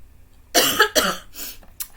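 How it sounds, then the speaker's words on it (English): Two sharp coughs close together, followed by a softer third, close to the listener with no talking. "I must cough"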